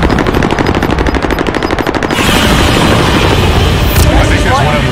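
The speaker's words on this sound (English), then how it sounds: "Oh no, they're shooting." Rapid automatic gunfire in the Warzone video game, dense bursts of rattling shots with sharp booming impacts, loud and continuous across the clip, mixed with game noise.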